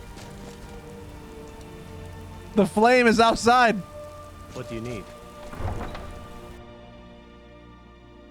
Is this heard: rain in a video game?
yes